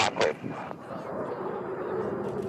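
A large military transport jet, a C-17, booms low overhead, a steady deep roar that swells and sustains after a few short spoken words at the start.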